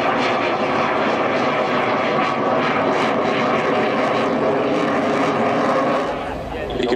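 Aircraft making a slow speed pass at the Point Cook Airshow 2014, a loud continuous engine roar holding steady before easing off near the end, with commentary heard underneath.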